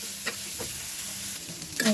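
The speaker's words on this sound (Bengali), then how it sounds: "চিংড়ি মাছটা একটু ভাজা দিয়ে নিতেছি।" Small white sea shrimp fry in a pan, a close, steady sizzle with a few scraping stirs of the spatula.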